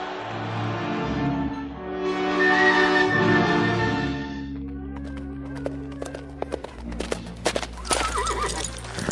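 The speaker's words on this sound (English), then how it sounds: "Lovely Lita bearing down the stretch" Racehorses charge to the finish of a race: a loud horse whinny rises over rumbling movement, then scattered sharp hoof clatters and thuds follow close by.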